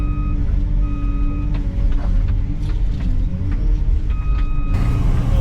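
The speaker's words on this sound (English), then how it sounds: "because that beeping's irritating me" Construction machinery at a demo day for Liugong and Mecalac equipment, working on a pond dam build, sounds a loud repeated reversing beep over a heavy diesel engine rumble, with the beeps spaced evenly.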